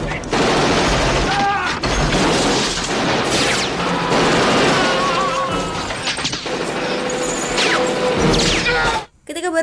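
Gunfire in a battle scene from an action film: dense, loud bursts of shots, crashes and booms pile up almost without a break, with a voice running underneath, then cut off abruptly near the end.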